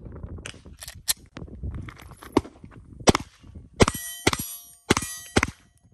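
A Glock pistol being reassembled by hand, sharp metallic clacks and clicks of slide and parts snapping into place, several distinct hits close up, with quieter handling rustle between, no talking.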